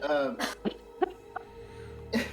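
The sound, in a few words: coughing and catching breath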